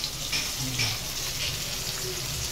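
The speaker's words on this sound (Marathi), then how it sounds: "आता मच्छी तळते" Fish frying in a pan at home makes a steady, soft sizzle throughout, with faint scattered kitchen clatter and no talking.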